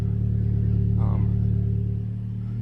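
Steady deep drone of a Toyota Corolla engine idling through a new Borla exhaust, low rumbling tone held throughout, a brief murmur of voice partway through.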